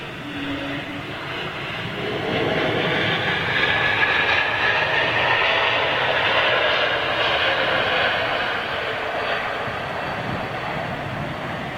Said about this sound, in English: some very, very smooth landings going on here this afternoon